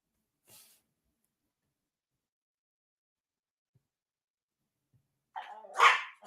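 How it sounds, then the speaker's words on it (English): A female dog at home barks at a passing school bus: one faint click early on, a long silence, then a short, close burst of barking near the end with no voices. "Yeah, she likes to bark at the school bus going by."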